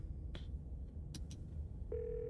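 A steady telephone dial tone from Scarlet Hollow, a horror video game, begins partway through as a single clear sustained hum after brief clicks and a clatter from the other end of the line.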